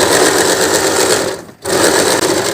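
A sewing machine runs a straight seam through suit fabric, a loud steady mechanical whir with a brief pause midway before stitching resumes at full speed.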